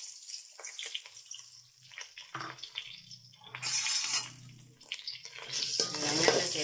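Chopped onions are stirred in a pan with a spatula in bursts of scraping and shuffling over a soft sizzle, with short pauses between strokes.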